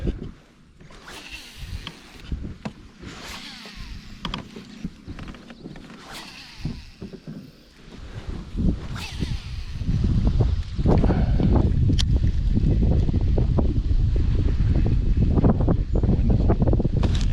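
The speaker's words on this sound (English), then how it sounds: "The wind is starting to pick up." Wind gusts over the water during a bass fishing trip from a boat. Faint rustling and knocks build at about eight seconds into a strong, steady roar of wind buffeting the microphone.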